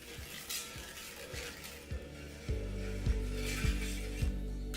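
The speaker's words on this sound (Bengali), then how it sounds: "এই স্টেজে আপনাদের দিয়ে দিতে হবে 4 বড় চা চামচ টক দই, যেটাকে গ্যাসের ফ্লেমটা লো রেখে আপনাদের ভালো করে মিশিয়ে নিতে হবে" Spoon stirring sour curd into a reducing gravy in a pan over a low gas flame for potato biryani, a soft continuous scraping and faint sizzle with periodic low thumps of the spoon against the pan, no talk.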